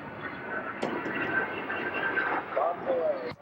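Military jets roar in on an attack pass at an air show at Barnes ANGB, a steady, moderately loud engine rumble heard from a distance, with a public-address announcer talking over it.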